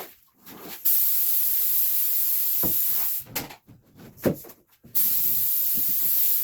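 Compressed air blasting sanding dust off a sheet of plywood in a Mini-Max 1030R boat build, loud steady hissing bursts near the mic, broken by short pauses and a few knocks between them.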